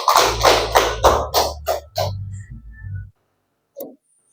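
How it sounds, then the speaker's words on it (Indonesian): A class claps in a short rhythmic burst of about seven loud, close claps over a low murmur, then the room goes quiet apart from one faint later sound. "Tepuk tangan dulu"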